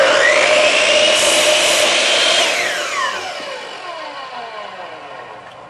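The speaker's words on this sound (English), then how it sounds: "slide our piece of wood down just slightly and make a quick test cut." A Hitachi C12FCH miter saw slices a test cut through a piece of wood: a loud, bright whine under load for about two and a half seconds, then the blade spins down with a fading, descending ring.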